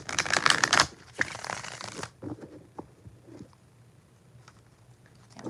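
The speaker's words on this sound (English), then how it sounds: "4 shuffles for Carrie" Tarot cards are shuffled close by in two dense, crisp riffling bursts, followed by softer scattered card taps and handling sounds.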